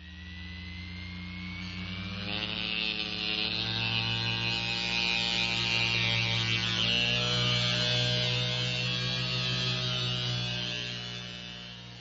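Human centrifuge spinning in a laboratory, heard as a steady droning mechanical whine and hum that swells in pitch and loudness, holds, then slowly fades, with no voices, in old 1950s film sound.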